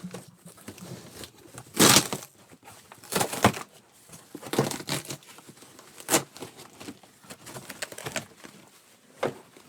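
A damaged cardboard shipping box holding an Enfield drill rifle is torn open in sharp, ripping bursts, close and fairly loud, with crinkling and handling noises between the tears.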